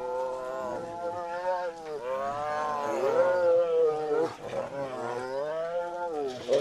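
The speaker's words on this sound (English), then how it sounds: "able to see the tigers just by the bars of their cage, and they're quite noisy" Caged tigers roar and moan at close range, a continuous series of deep, rising and falling growling calls filling several seconds.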